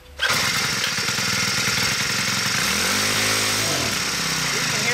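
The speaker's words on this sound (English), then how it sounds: "Let's start it up again, and then I'll slowly adjust it out" A Poulan gas pole saw's small two-stroke engine roars to life and runs loud and close at high revs while its carburetor is adjusted, the pitch wavering and bogging slightly toward the end.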